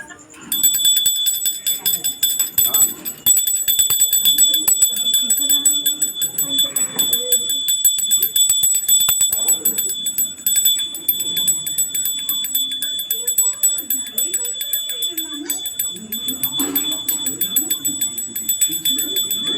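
Puja bell rings continuously through a Brahma Kamal flower worship, a bright metallic tone held steady and fairly loud for the whole stretch, with voices talking under it.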